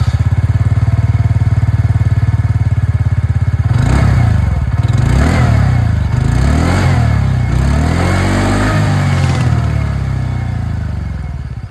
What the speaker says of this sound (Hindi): यहाँ पर ये जो एंटॉर्क रेस XP मॉडल है इसकी जो आवाज़ है वो भी मैं आप लोगों को सुना दूँ